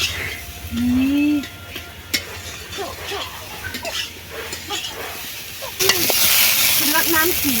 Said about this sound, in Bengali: সব কিছু মশলার সঙ্গে ভালোভাবে কাঁকড়া আলু কচু কষানো হয়ে গেছে